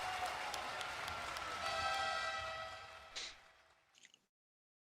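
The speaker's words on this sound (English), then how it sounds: "I'm surprised you actually gave me the clapping." A canned crowd-applause sound effect fired from a podcast soundboard, with steady clapping for about three seconds before it thins and fades out to silence.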